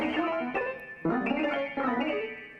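Sustained piano notes shifting in quick clusters, phrased in uneven bursts that mimic the rhythm and contour of spoken sentences.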